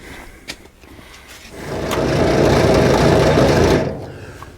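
An M151A1 jeep engine being cranked over without starting, a fast mechanical whirring churn that rises for about two seconds and then cuts off, close and loud, with a few knocks before it.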